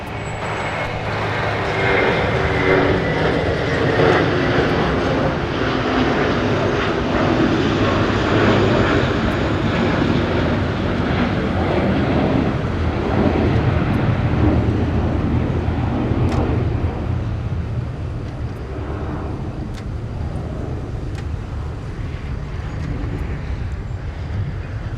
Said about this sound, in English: American Airlines headed off to Phoenix Sky Harbor with the A321.